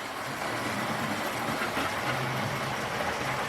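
A Hornby model railway locomotive runs on its track, giving a continuous smooth whirring rumble with a faint rhythmic clatter, steady and fairly loud throughout, with no talking.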